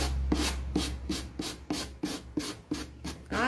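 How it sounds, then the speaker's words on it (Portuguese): A pharmacy foot-file sanding sheet rubbed over MDF, with about nine rhythmic back-and-forth scrubbing strokes at a steady pace, close and fairly quiet. "A gente usa essa lixa aqui, que é a lixa que a gente compra na farmácia."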